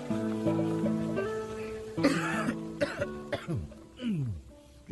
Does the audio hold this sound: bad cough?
yes